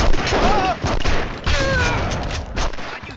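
Gunfire in The Punisher video game comes as a loud, dense burst of shots and booms, with shouting voices mixed in.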